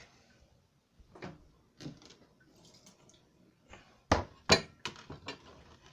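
A small hammer tapping ice: irregular hard taps and knocks, a few scattered early and then a quicker cluster of sharp louder strikes, with no voices.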